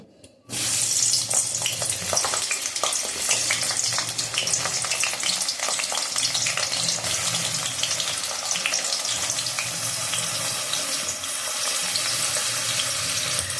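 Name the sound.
eggplant lightly frying in hot oil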